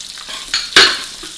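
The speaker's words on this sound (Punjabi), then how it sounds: "ਹਲਕਾ ਜਿਹਾ ਇਹਨੂੰ ਸੌਤੇ ਕਰਾਂਗੇ" Garlic and ginger being sautéed in a pan for egg curry, a soft sizzle with a sharp scrape and stir burst near the middle, then a fading fry hiss.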